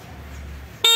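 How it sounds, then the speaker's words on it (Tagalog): A Keso Tanque V2 electric scooter's horn gives one short, loud, high-pitched beep that cuts in abruptly at the end after a low idle hum. "pakitest nga natin yung kanyang busina"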